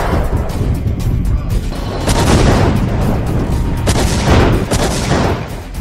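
Russian frigate Admiral Golovko test-firing its weapons: a dense, continuous roar of loud booming blasts, with a few sharper bursts standing out over the rumble.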